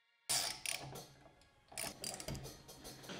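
Roof rack bolts on a Toyota 4Runner are tightened with a ratchet, giving close, quick bursts of clicking separated by a brief pause, with no talking.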